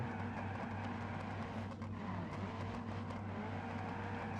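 In the driving game BeamNG Drive, a car drives with a steady engine whir and loud road noise, and the pitch shifts slightly as the car moves.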